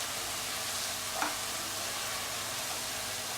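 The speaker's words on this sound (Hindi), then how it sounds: "हमारे जो प्याज हैं और लहसुन अदरक का पेस्ट है बहुत ही बढ़िया भून लिया हमने इसे" Onions and ginger-garlic paste frying in a pan for a spicy chicken curry, a steady close sizzle with faint stirring scrapes and a brief utensil knock partway through.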